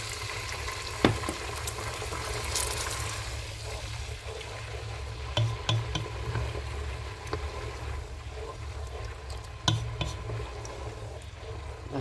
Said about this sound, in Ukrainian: і доливаємо трошки води.